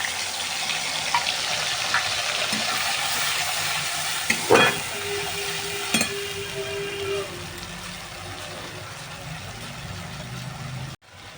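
Onion and green chili paste frying in a pan, a steady broad sizzle with occasional stirring clatters and a few sharp knocks midway, under a faint background voice.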